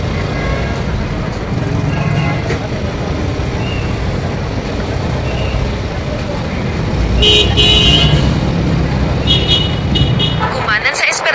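Busy road traffic on Quirino Highway in Metro Manila: a continuous close rumble of cars and buses idling and moving, with short car-horn toots sounding in the latter half.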